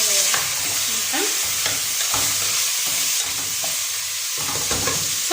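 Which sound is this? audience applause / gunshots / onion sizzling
onion sizzling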